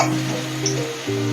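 Whole cumin, garam masala and tomato sizzle loudly in hot oil in a pan, close up, with a spoon stirring and scraping through them in short strokes.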